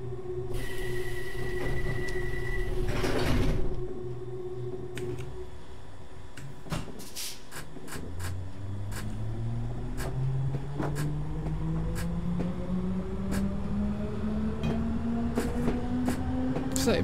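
A London Underground District Line C69 stock train in a simulated run toward Wimbledon hums and rumbles steadily, with a rising motor whine as it pulls away after a brief burst of noise near the start.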